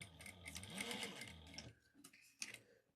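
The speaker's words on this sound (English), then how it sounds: "I'm back stitching." A sewing machine back stitching, a fast mechanical needle clatter running steadily for over a second and a half, then easing into a few slower separate clicks and taps, close and quiet.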